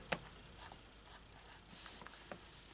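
A pen scratches faintly on paper while role-playing-game character stats are copied down, giving a few soft, intermittent strokes and taps in a quiet room.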